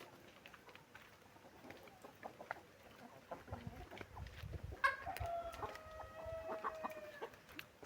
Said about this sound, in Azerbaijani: Cücələrimiz yemlərini yeyirlər.